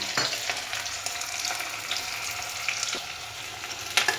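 Onion and potatoes fry in a pan, a steady close sizzle with scattered crackles and a few stirring scrapes, running alone throughout.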